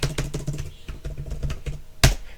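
Rapid clicking of computer keys as a short Linux command is typed, close and steady with a louder final keystroke like the Enter key near the end.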